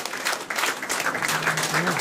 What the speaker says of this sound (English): A round of applause for all the doctors.